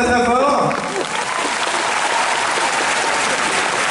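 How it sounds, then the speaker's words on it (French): Loud audience applause fills the hall at a European Cosplay Gathering show at Japan Expo 2014, steady dense clapping throughout, with a voice talking over it at the start. "On les applaudit très très fort"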